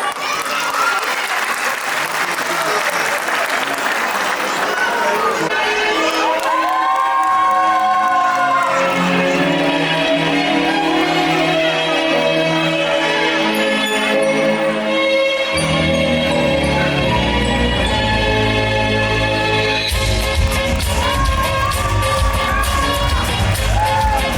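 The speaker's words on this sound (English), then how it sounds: "Can we have a big round of applause?" A school annual day crowd claps and cheers loudly for nursery children after a Goan folk dance, with children's shouts and whoops over steady applause while music plays underneath throughout.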